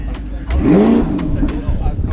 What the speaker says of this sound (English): And now he does a Rev.